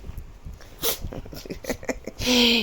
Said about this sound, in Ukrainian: Ти ж чихаєш уже, ти ж чихаєш.